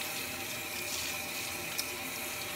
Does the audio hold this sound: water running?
yes